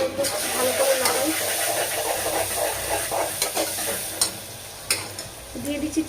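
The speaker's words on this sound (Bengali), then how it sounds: "ভালো করে নাড়াই" Spices such as coriander and chilli powder being stirred in a pan for khichuri, a steady sizzle under repeated scraping strokes of a spoon, close and moderately loud, with occasional sharper clinks.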